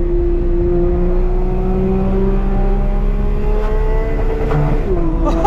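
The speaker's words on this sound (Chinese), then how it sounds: "你如果故意升档晚一会儿，就会听到小时候玩赛车游戏里面那种声音" A Porsche 911 GT3 engine, naturally aspirated, revving loud and close with a rising whine, held high before a late upshift drops the pitch near the end; no voices over it.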